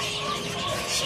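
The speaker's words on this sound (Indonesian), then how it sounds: "Nah di sini ada burung Bimoli teman-teman, seperti ini" Bimoli birds chirping and calling at Pramuka bird market, a busy, steady chatter of small birds close by with a faint dove-like coo mixed in.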